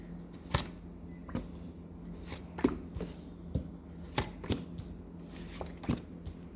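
Tarot cards being shuffled and drawn, heard as sharp, close taps and snaps at irregular intervals over a faint, steady room hum.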